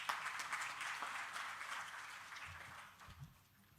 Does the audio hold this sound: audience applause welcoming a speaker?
yes